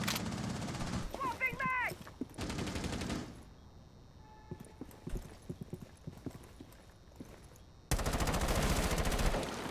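Gunfire in a tactical shooter video game, with sharp bursts of shots mixed among footsteps and game noise, broken by a quiet stretch in the middle while a player speaks briefly.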